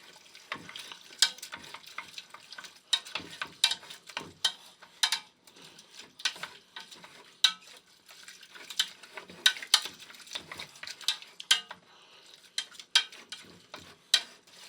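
Pasta, shrimp and lobster tail are stirred through sauce in a pan, giving soft irregular scraping and clinking taps over a faint sizzle, close and quiet, with no talking.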